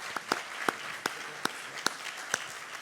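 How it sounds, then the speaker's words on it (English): Sparse, scattered clapping from an audience, individual sharp claps standing out over a soft wash of applause. "join me in a round of applause for Matt Delmont, Steve Salter"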